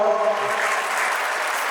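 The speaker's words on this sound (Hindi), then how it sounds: "आप सभी से पुनः तालियों के लिए अनुरोध निवेदन करता हूँ।" Audience applause at an opening ceremony, a short, moderately loud patter of clapping from a seated crowd, steady throughout and not far off.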